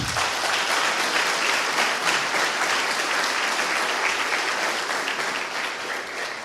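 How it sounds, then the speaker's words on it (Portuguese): A congregation at a church celebration service applauds in worship, a thick, sustained wash of many hands clapping at even strength that tapers slightly toward the end, with no speech over it. "Vamos aplaudir o nosso Deus."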